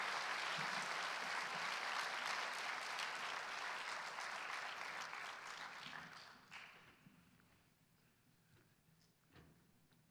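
Audience at a 2019 conference keynote applauds to welcome speaker Harry Kraemer: dense, loud clapping that holds steady for about six seconds, then thins out to a few scattered claps and fades.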